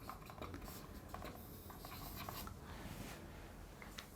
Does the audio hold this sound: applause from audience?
no